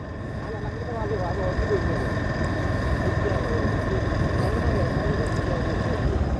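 A motorcycle engine drones steadily while riding through a flooded area along the Netai river, a continuous low hum with wind rush, moderately loud and unchanging.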